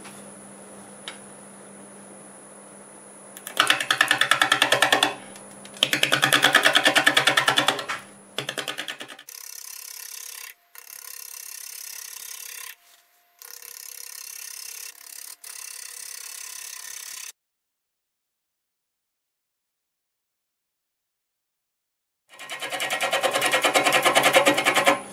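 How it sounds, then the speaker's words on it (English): A lathe turns a flame maple burl at about 550 RPM while a 5/8 bowl gouge cuts it, with bursts of scraping cutting noise separated by quieter spinning and a long silent gap. "got a 5/8 bowl gouge, and I'm doing about 550 RPMs"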